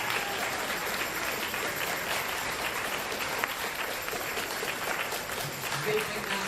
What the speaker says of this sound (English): So let's give all of our parents a round of applause